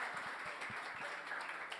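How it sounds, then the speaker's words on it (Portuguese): A small audience claps at a startup meetup, a brief, soft, steady round of applause heard from a moderate distance. "Mais uma salva de palmas e encerramos com uma foto aqui."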